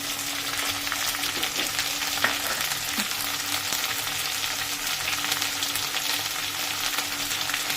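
Soup ingredients fry in a pan seasoned with salt and turmeric, a dense, even sizzle with faint stirring scrapes, steady throughout and close up.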